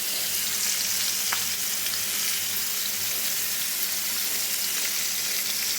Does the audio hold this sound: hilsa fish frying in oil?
yes